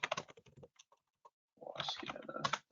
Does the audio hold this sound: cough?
no